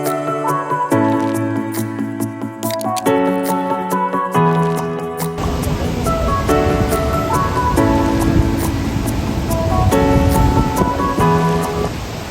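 Heavy monsoon water rushing at Athirapally waterfall, a loud broad roar that swells in about halfway through and continues to the end, mixed under steady melodic background music that plays throughout.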